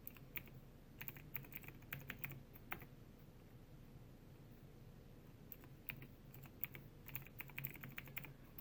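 Someone types on a computer keyboard using only one hand, giving soft, uneven clusters of clicks with short pauses in a quiet room.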